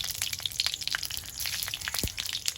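Whole garam masala spices crackle and spit in hot oil in a wok, a steady sizzle scattered with small sharp pops and one brief low thump.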